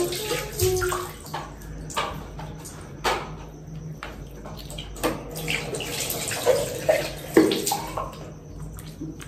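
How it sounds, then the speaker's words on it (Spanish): Water splashed onto a face during a nighttime facial washing routine at a sink, repeated wet slaps and splashes in an irregular rhythm over running water, close and moderately loud. "ya nos echamos bastante agua"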